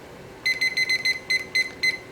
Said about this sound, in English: I'm going to set my timer for 10 minutes once again